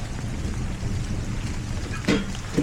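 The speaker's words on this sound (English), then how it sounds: "We're having a bit of a thunderstorm and we've lost power." Thunderstorm with rain during a power outage: a steady hiss of rainfall over a low rumble, with a sharper crackling burst near the end, heard alone without voices.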